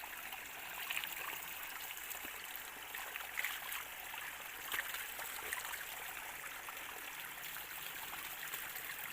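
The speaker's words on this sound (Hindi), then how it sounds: "यहाँ पे चश्मे का पानी आ रहा है" Spring water pours steadily from a pipe at a hillside spot in Himachal, a continuous broadband rushing and trickling that stays even and fairly close throughout, with no voices.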